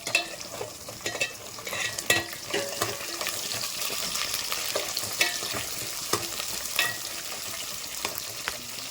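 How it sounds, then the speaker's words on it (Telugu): Green chillies and mint leaves frying in hot oil for a vegetable pulao, with a continuous close sizzle broken by scraping stirs of a spoon against the pan. "పచ్చిమిర్చి అయితే యాడ్ చేసుకొని ఫ్రై చేసుకున్నాం"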